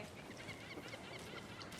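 Ducks in the video game Alan Wake 2 honk and quack in a quick, busy cluster over a waterfront ambience. The calls are moderately close and carry no speech.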